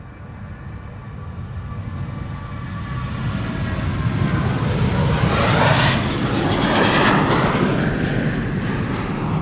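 A Transavia jet takes off from the Polderbaan runway at Amsterdam, its engine roar loud and broadband, swelling to a peak midway and then holding steady, with no voices over it.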